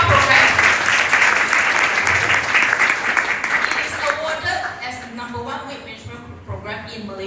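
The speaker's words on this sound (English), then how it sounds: "can I borrow your hands and give a round of applause to our TR program?" Audience applause at a Trim and Fit health session, loud dense clapping that fades and thins toward the end while a voice talks over it.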